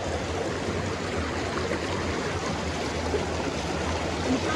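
A small trickle of water flows steadily along a channel, a continuous broad rushing hiss with no other sounds and no talk.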